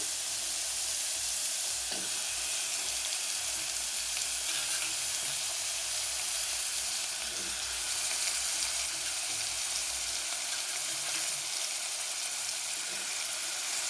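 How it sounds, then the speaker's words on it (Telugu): Ridge gourd curry simmers on a low flame in a pan, a soft continuous sizzle and bubbling hiss holding steady throughout with a few faint clinks, fairly quiet and close. "దీన్ని సిమ్లో పెట్టి మగ మగ్గనిద్దాము"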